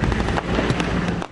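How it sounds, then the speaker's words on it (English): Gunfire erupts in a Taliban ambush on a mountain road near Karangal, a dense continuous crackle of rapid shots with sharp bursts throughout, loud and close. "shots ring out."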